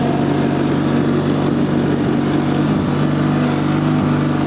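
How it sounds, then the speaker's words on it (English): A Gilson S-Twin 18 horsepower twin-cylinder lawn tractor with rear discharge cuts grass, its engine droning loud, steady and close without a break. "Well, let's try cutting grass then."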